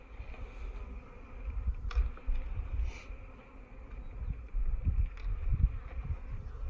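Honey bees hum around an open hive as frames are lifted, a close, uneven buzzing that rises and falls with a few louder passes near the microphone.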